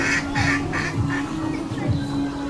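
Several ducks swimming in a park pond quack in a loose rhythmic series, close and clear, with faint background noise.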